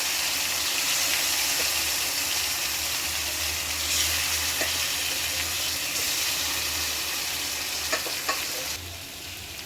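Fish pieces fry in hot oil in a wok with a loud, steady close-up sizzle and bubbling, a few faint clicks of utensils near the end, and no talking.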